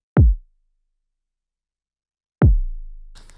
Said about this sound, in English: For the kick, I'm just using a random trappy kick